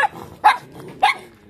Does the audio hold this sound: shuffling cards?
no